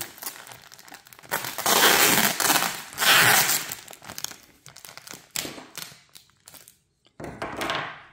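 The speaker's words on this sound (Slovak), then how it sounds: "Zoberieme lepiacu pásku." Adhesive tape is pulled off a roll and pressed onto a mushroom grow bag of Lion's Mane (Hericium erinaceus) substrate at home, giving loud crinkly rips and bursts with short pauses between them, close up and without talk.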